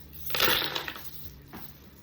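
Small charms and dice tumble out of a bag onto a tabletop in a quick rattling clatter, followed by a single lighter knock a moment later, close and fairly quiet with no voices.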